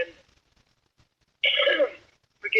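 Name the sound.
cough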